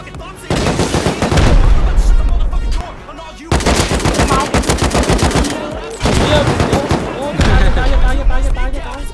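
Rapid gunfire in the survival video game Rust, with loud automatic bursts and single shots in dense volleys that pause and then resume, and voices talking over the shooting.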